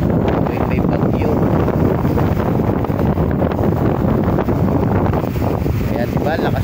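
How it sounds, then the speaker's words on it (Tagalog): Strong wind on Manila Bay buffets the microphone with a constant heavy roar, like gusts over open water, steady and loud for the whole stretch. "Kaya diba, lakas pa ng hangin, no?"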